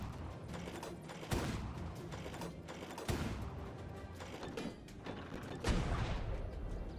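Balls fire from a turret mounted on a Quetzal in the game ARK, with sharp thumping shots at irregular intervals over a constant mechanical whir and creak, no talk.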